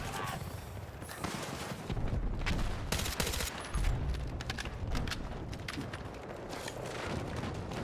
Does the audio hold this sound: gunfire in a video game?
yes